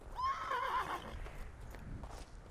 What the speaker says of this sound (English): And there's a Jotun horse.